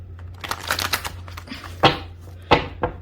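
A tarot deck being shuffled by hand: a fluttering riffle of soft paper slaps, then a few sharper taps as the cards are squared, close and fairly quiet.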